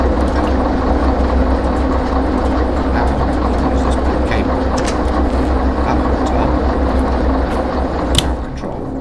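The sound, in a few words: trains coupling in video game Derail Valley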